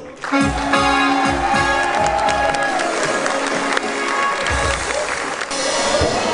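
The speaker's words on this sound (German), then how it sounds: "Euer Applaus!" Audience applause at a carnival Prunksitzung of the ESKAGE Schweinfurt, a dense, sustained wash of clapping and crowd noise filling the hall, loud and continuous with a rhythmic band beat running underneath.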